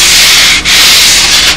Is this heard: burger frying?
no